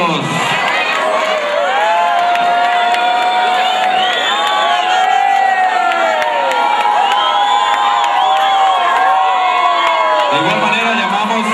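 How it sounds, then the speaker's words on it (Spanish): A crowd at a parish queen's coronation erupts into loud cheering, whoops and children's shouts, with some applause mixed in, sustained and close for the whole stretch. "¡Fuerte los aplausos!"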